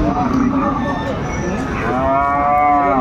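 Sahiwal bull calves low loudly and close at a Saturday cattle market in Nabaganj, Dinajpur, with drawn-out, overlapping moos that rise and waver against a busy crowd hum.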